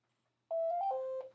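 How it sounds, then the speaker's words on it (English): A telephone rings close by with a short electronic warble of rising tones that hold for under a second, heard alone against near silence. "in the midst of a damn phone ringing"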